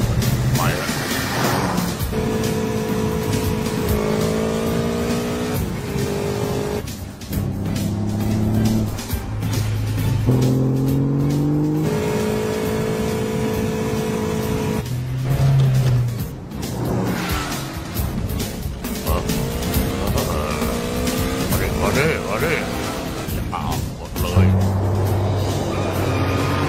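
In a Jet Li action film, a car with failed brakes speeds along with a loud, sustained engine roar and occasional tyre skids, heard under dramatic music and voices talking.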